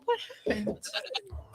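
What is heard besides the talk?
goat bleating sound effect from a mystery button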